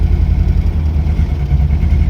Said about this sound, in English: at the moment I'm just keeping it idling